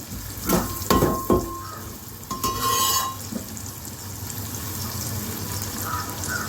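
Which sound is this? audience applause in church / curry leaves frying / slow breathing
curry leaves frying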